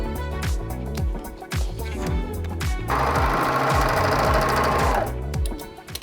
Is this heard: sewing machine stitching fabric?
yes